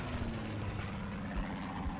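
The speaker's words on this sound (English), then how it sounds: "And there goes the plane again." A propeller plane drones overhead in a Combat Mission Battle for Normandy game, a steady loud engine hum with pulsing rumble throughout the short stretch.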